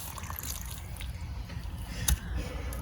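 Water drips and splashes onto freshly planted flowers during outdoor watering, a soft, steady patter with one sharper splash near the end.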